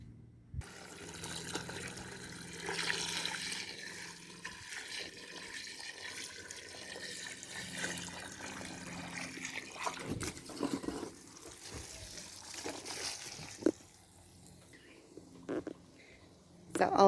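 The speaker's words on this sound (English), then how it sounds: "Now I'm going to add water to it." Water pours and splashes steadily onto an old carpet laid out on a balcony, a continuous rushing hiss lasting many seconds with a few knocks and louder splashes toward the end.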